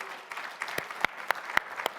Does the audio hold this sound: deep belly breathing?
no